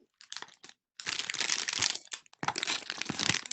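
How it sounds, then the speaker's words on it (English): Plastic wrapper crinkling close to a microphone during an online meeting, in irregular crackly bursts: a few short rustles, then two longer, louder stretches of dense crinkling. "I think I can hear you crinkling something."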